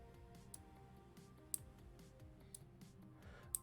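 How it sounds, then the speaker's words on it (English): An Arduino-driven relay switch clicks faintly in a quiet room, a few sharp isolated ticks spaced about a second apart over a low hum. "the clicking sound you're hearing is the switch closing"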